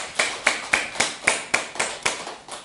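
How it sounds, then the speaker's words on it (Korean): A church congregation claps in praise during a Sunday service, sounding as a run of about nine evenly spaced, unison hand claps with a brisk, steady rhythm. "우리 하나님께 영광의 박수 돌려드립니다."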